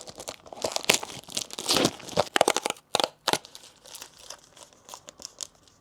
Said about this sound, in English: Let's rip open this box and see if we get anything special.